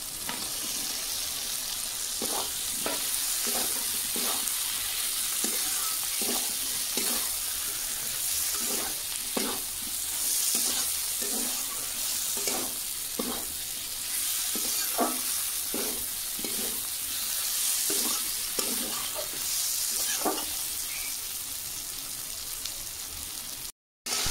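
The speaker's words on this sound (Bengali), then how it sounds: "দেখুন কচু আর সব রকম মশলা দিয়েছিলাম, কষানো হয়ে গেছে" Fried taro pieces stir-fried with spices in a pan, a continuous hissing sizzle broken by a rhythmic series of spatula scrapes and stirs, close up with no speech.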